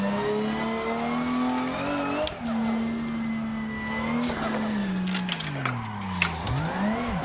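Toyota Supra engine in a racing video game heard from inside the car, a loud, close tone rising and falling through gear changes, with tire squeal and skidding during hard cornering.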